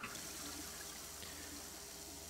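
Water streams steadily from a sink tap in the video game Prey, a constant close hiss of running water filling the basin with no talk over it.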